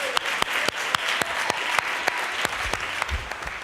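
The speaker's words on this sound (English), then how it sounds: "that's worth clapping" Conference audience applauding at a school transformation event, a dense crowd of hands with a few sharp, close claps standing out sharply, fading slightly toward the end.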